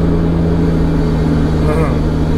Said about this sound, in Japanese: 吸い込む音がちょっと甲高い気がする。